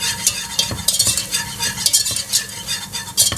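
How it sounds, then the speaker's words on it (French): A whisk stirs flour into a thickening sauce for veal tongue with olives and mushrooms, giving a steady, close, scraping rhythm of wire against the pan over a faint sizzle, with soft clinks throughout. "une bonne cuillère de farine qui va épaissir notre sauce. Je remue avec un fouet."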